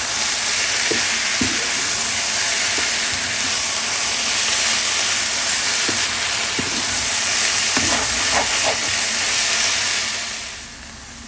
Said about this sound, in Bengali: আর এভাবে জোরে জাল দিয়ে সুন্দরভাবে ভেজে নিতে হবে, নিচে লেগে গেলে সেভাবে উঠে দিতে হবে